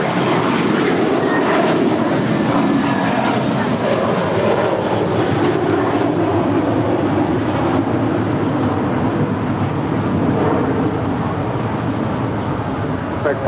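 An airliner rolls for takeoff on runway 25 right at LAX, and a broad, steady engine roar holds loud and unbroken throughout.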